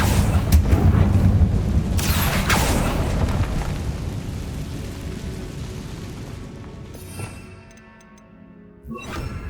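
In Hogwarts Legacy, the Confringo fire spell goes off as a few sharp, booming blasts near the start, followed by a long rumbling decay and scattered clicks of game effects as it fades out.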